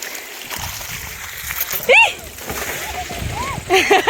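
Water splashes and sloshes from a pipe that has fallen down, in short bursts at close range, with a voice talking over it.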